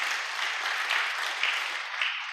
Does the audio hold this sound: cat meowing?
no